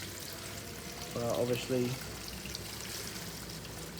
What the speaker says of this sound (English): I'll pour some water over that rear light, get it all in the grooves